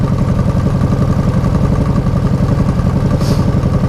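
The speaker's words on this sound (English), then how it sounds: "And he's riding a Harley." A Harley-Davidson motorcycle engine, filtering through traffic on Alexandra Avenue, Carlton, runs with a steady, loud low-pitched throb and clattery rumble, holding constant throughout.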